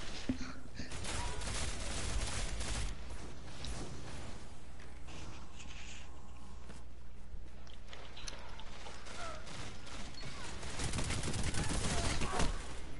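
Gunfire in a Destiny 2 multiplayer Control match, bursts of shots at the start and again near the end with quieter stretches of game ambience and effects between.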